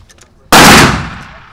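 A single loud gunshot from a 300 Blackout AR pistol cracks sharply and close, with a reverberant tail after some faint talk beforehand.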